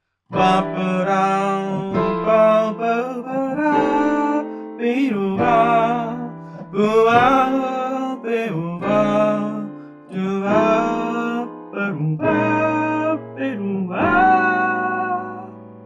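Piano plays full seventh chords in the right hand over left-hand shells in a steady comping rhythm, each cluster struck clearly and left to ring briefly.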